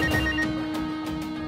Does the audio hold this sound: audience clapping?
no